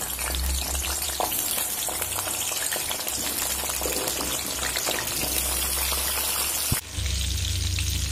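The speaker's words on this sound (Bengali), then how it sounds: "এবার আমি পটলগুলো ভেজে নেব, একটু মিডিয়াম ফ্লেম করে ভেজে নেব।" Pointed gourd (potol) frying in hot oil in a wok over medium flame, a steady crackling sizzle with bursts of spatter, briefly interrupted by a stir before the frying continues loudly.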